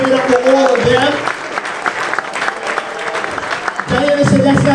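A crowd applauding and cheering for a campaign team at a special election victory event for county executive, a sustained burst of clapping and cheers between stretches of someone speaking over a microphone.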